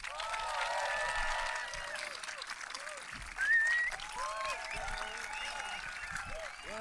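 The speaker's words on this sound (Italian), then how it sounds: "Signore e signori, per favore un applauso per Arturo Brachetti." A studio audience gives a warm burst of applause welcoming guest Arturo Brachetti onto the talk show Tintoria, steady dense clapping that swells briefly midway, with voices and cheers mixed in.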